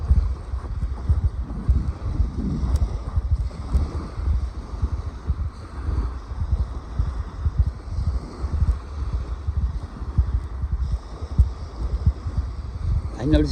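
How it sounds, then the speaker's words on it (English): Cold wind blows outdoors, pressing on the microphone as a steady, loud low rumble with uneven gusts that lasts the whole time and never drops away. "the wind's blowing. You can probably hear it."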